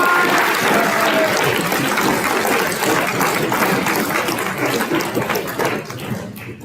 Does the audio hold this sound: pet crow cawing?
no